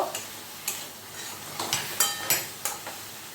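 Bottle gourd cooks with sugar in a pan, giving a soft sizzle. Spatula strokes scrape and tap the pan in an irregular series of distinct, close knocks.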